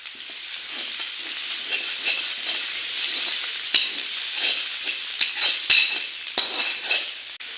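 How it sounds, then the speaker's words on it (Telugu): Green chillies and pepper chicken fry in a pan with a steady hiss and sizzle, punctuated by occasional clicks and scrapes of a spoon stirring against the metal, with no talking. "నెక్స్ట్ ఏం ఐటమ్ నాలుగైదు పచ్చిమిరపకాయలు వేసుకోవాలి"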